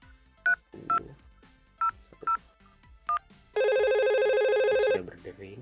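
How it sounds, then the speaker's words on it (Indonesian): A VoIP phone call in a Packet Tracer network simulation: several short dialing beeps sound one after another, then a loud sustained ring tone plays for over a second before stopping, with faint talk underneath. "Sudah berdering."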